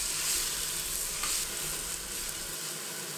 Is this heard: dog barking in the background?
no